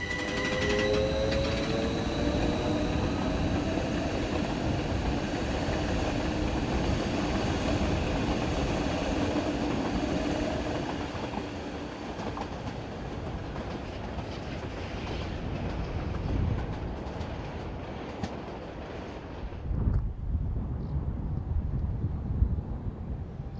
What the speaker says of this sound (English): class ABE 812 unit number 3511 as it departs north with the 1602 service from St. Moritz to Chur.